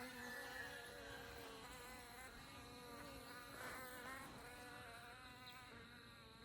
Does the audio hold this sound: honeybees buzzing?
yes